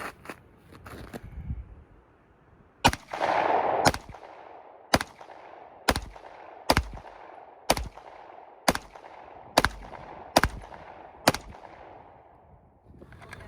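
A Glock 48 MOS pistol fires at a target in a slow, evenly spaced series of about ten sharp, loud shots, each with a short ringing tail and no voices between them.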